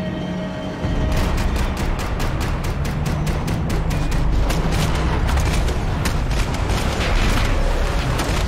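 A sustained burst of automatic gunfire in Max Payne 3 with loud, evenly spaced rapid shots close by, starting after a brief lull and hammering on for several seconds over a dense roar of combat.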